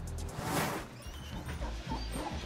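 A mixed-breed pit bull dog gives short barks and whimpering yips, close and fairly loud, with outdoor background noise around it.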